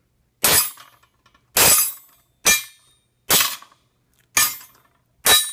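A 21mm metal wrench struck six times at an even, unhurried pace, each hit a sharp, bright metallic clang with a brief ringing rattle that dies away quickly, close and loud with silence between strikes.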